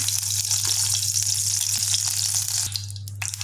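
Mustard seeds and curry leaves sizzling in hot oil in a kadai, a bright steady hiss over a constant low hum, with a few small pops near the end.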